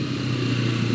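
A motorcycle engine hums steadily at a constant idle-like pitch, close and fairly loud, with no voices.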